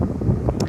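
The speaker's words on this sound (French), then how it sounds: "Il y a du vent et j'espère que le vent n'est pas trop fort." Wind blowing outdoors buffets the microphone in a steady low rumble, with a brief brighter gust of hiss near the end and no speech.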